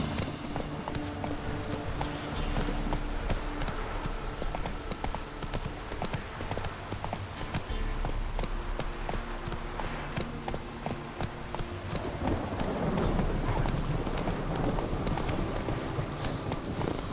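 Horse hooves gallop steadily through The Witcher 3, a continuous rapid clip-clop held at close range for the whole stretch, with a brief whinny and some background game ambience underneath.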